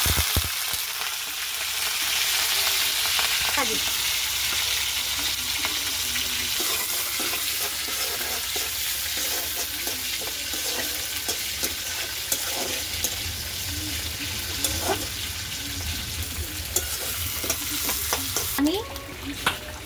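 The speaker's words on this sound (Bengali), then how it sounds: "এখন আমি চিংড়ি মাছ দিচ্ছি" Prawns frying in hot oil with dried chili and cumin in a heated wok, a close, steady sizzle with repeated scraping stirs and clinks throughout.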